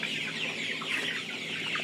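A steady murmur of Tiger chickens raised for meat clucking together, a continuous flock chatter with no voices.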